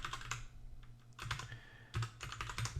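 Computer keyboard typing as a domain name is entered, brisk clusters of close, crisp key clicks with short pauses between bursts, quiet and alone.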